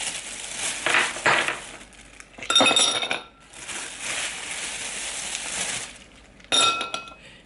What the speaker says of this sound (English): We're actually gonna add regular ice here first.